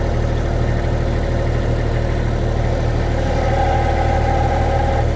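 Kubota-powered CFG JK35 skid steer loader curling its bucket, a loud, steady diesel drone with a low hum and a faint rising hydraulic whine toward the end, heard close up with no talk.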